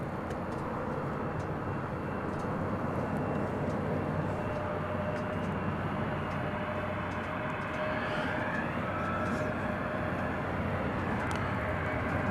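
An airliner approaches DFW Airport at night, a continuous broad jet roar that holds steady and fairly loud with a faint whining tone throughout, and no voices.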